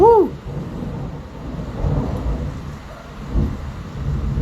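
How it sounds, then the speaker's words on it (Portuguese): Low rumbling thunder rolls in two swells beneath steady rain in a thunderstorm, after a brief tonal sound at the very start. "vem tempestade, vem trovão, vem vento"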